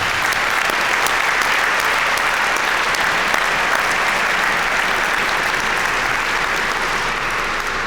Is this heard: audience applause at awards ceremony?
yes